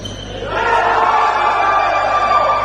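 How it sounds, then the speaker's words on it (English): A crowd at a men's tchoukball match at the European Tchoukball Championships swells into a loud cheer after a quiet start, sustained and roaring to the end, with a commentator's voice faintly underneath. "And the cheer because that is well defended."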